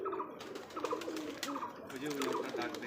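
High flyer Giribaj pigeons coo softly in low, repeated rolling calls, faint and somewhat distant, with a voice speaking quietly underneath, at a pigeon farm.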